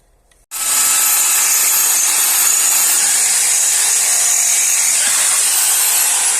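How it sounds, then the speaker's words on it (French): An electric drill bores a hole while a double radiator is fitted to a Derbi Euro 4 motorbike. After a brief silence, a loud, steady whirring drone starts and runs unbroken to the end, with no talking. "Mais voilà, le premier trou est percé."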